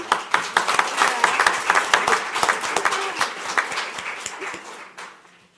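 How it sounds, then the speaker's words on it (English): A small group at a town council meeting claps, with distinct individual hand claps forming an uneven burst that thins out and fades to quiet near the end, while a voice speaks briefly over it. "That deserves a clap."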